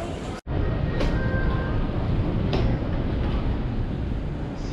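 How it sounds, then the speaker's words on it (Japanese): A train rumbles past nearby with a steady, broad roar and faint rail squeals, after a short abrupt break at the start. "ゲートを通ってから電車が走ってるんだ、すごいよ。"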